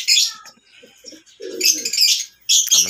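Fancy pigeons coo in low, soft bursts inside a roomy aviary shared with lovebirds, whose bright, high chirps come in loud clusters at the start and end.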